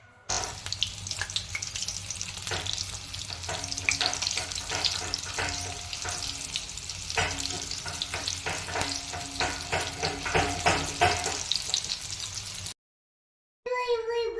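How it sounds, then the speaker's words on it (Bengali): Cauliflower pieces deep-frying in hot oil make a continuous crackling sizzle with scattered pops and bubbling, ending in a brief silence and a short final burst. "এরকম করে একটা একটা করে তেলের মধ্যে ছেড়ে আলাদা আলাদা করে ভেজে নিন পুরো ফুলকপিটাকে"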